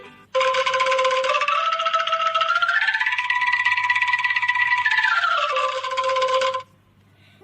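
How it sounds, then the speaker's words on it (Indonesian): Sundanese angklung, a bamboo instrument, plays a sustained shimmering tremolo chord that rises in pitch and then slides back down, loud and close for about six seconds with no voices. "Nah, itu adalah suara musik angklung."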